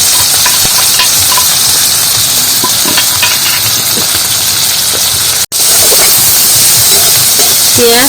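Chopped onions and green chillies sizzle in hot oil, a loud, steady hiss broken by occasional scraping stirs, with no talk over it.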